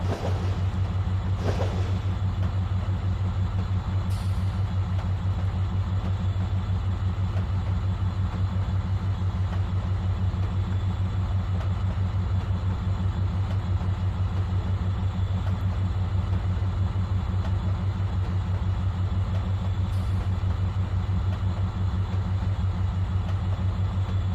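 Diesel locomotive in the Trainz 2019 railroad simulator throttling up, a constant loud low engine drone with steady rumble and faint clanks, no talking.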